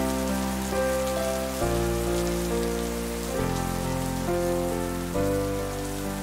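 Steady rain falls on a surface throughout, marking the start of the rainy season in a Vietnamese-dubbed cartoon. A sustained musical chord backing shifts a few times under it.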